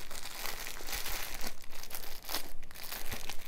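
A knife cuts through packing tape on a parcel, giving close crackling, tearing and crinkling noises in short uneven bursts with a few small thumps of handling.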